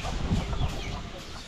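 A hen clucks at the spot where she has just laid an egg, giving a few short, fairly close clucks over steady farmyard background noise.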